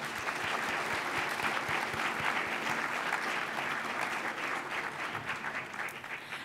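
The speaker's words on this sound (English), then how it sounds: "Let's give them another round of applause." Applause from the audience at a 2018 State of the City address, sustained dense clapping from a crowd that holds steady throughout and tapers slightly at the end, with no speech over it.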